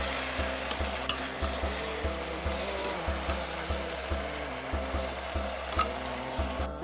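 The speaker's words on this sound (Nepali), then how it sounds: "चलाउनुहोस् साथीहरु।" Pumpkin and taro root curry with a little ginger is stirred in a pan, a soft sizzle under rhythmic scraping strokes that repeat about every half second, with a few light clinks.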